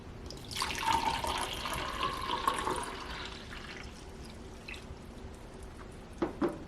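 Water poured from one Magic Bullet blender cup into another, a trickling splash lasting a few seconds, followed by a couple of light knocks of plastic.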